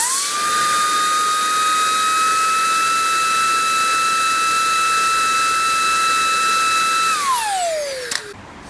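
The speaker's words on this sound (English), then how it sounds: "So I'm going to blow it and then hold it and see if I can keep them sitting there with the sustained blow from the blowers." A Makita leaf blower runs at a steady, loud whine for about seven seconds of sustained blowing, then its pitch falls as it spins down near the end; no one speaks.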